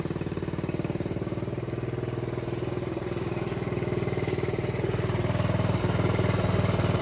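A dirt bike engine idles steadily while its carburetor air/fuel screw is adjusted, giving a close, even putter with a rapid regular pulse that builds slightly in loudness toward the end, with no voices.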